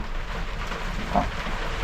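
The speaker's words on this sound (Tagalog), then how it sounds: "lalo pang lumakas ang ulan at saka ang hangin, hindi na humihinto" Heavy rain with wind in Cavite, Philippines: a steady, dense hiss of downpour fills the short stretch evenly at constant loudness, without speech.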